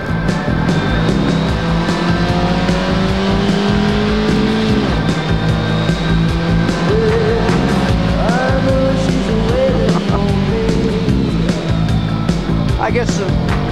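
A race car driven on a track at a 1990 celebrity race, heard from the driver's seat: a loud, steady engine roar that rises and falls with gear changes and never lets up.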